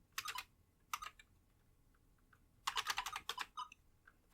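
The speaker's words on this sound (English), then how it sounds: "I'm going to type L for login and give my username" Brisk clicking of computer keyboard keys while logging in to a BBS, in short bursts of rapid taps separated by quiet pauses.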